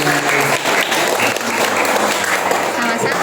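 Audience clapping at a Ramadan parenting seminar, a dense, steady round of applause from a crowd that holds at full loudness throughout, with a few voices mixed in.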